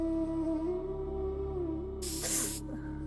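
A short burst of aerosol spray hisses for about half a second over a steady background tone and music in a Hindi TV drama scene.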